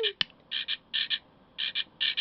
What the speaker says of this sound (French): C'est une petite grenouille. Puis quand on l'ouvre, elle chante.